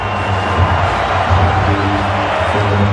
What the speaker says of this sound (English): Vince Carter cheered in Toronto after leaving this franchise for the first time since he left.